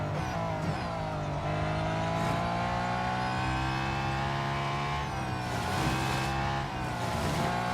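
A car engine races in the mobile game Real Racing 3, holding a loud, steady drone with slight pitch shifts throughout and no talking.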